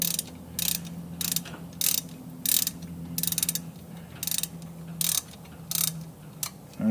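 A ratchet wrench tightens the bolts on an engine coolant temperature sensor housing of a Hemi-swapped 1966 Plymouth Belvedere, with repeated close clicking bursts in a steady rhythm over a low background hum.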